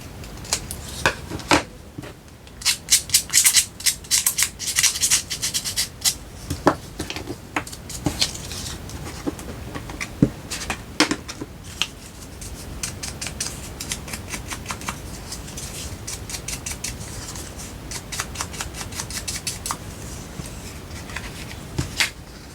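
Scissors cut a paper book page, making a dense run of crisp snips and rustling close by, busiest early on and then thinning into lighter, steadier paper clicks.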